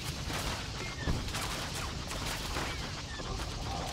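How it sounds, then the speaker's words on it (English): Faint, steady barrage of distant blaster fire and impacts as an enemy ship pounds the player in the space combat game Star Wars: The Old Republic, a continuous muffled rattle with one slightly sharper hit. "Oh, that ship's pounding us."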